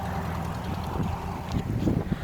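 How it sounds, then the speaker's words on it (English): Wind buffets the microphone in a low, steady rumble, with faint traffic or engine noise underneath and no talking. "Oh, it's windy."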